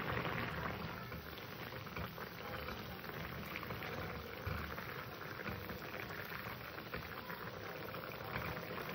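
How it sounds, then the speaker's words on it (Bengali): Fish curry with ridge gourd and potato boiling in a covered pot, a steady, dense bubbling hiss that runs unbroken throughout at a moderate level, with no voices. "এবার আমি এটাকে ঢাকা দিয়ে সুন্দর ঝোলটাকে ভালো করে ফুটিয়ে নেব"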